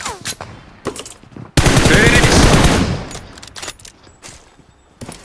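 Gunfire in the battle royale game BGMI sounds as a loud, dense burst of automatic shots of about a second and a half, set among scattered single shots and game noise.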